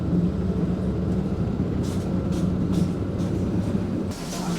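A train rumbles at Yangon railway station in Myanmar, a continuous low mechanical roar with steady loudness and faint hissing bursts above it, no voices standing out.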